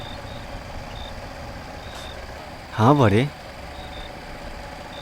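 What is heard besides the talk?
vehicle arriving at the door, reversing beeps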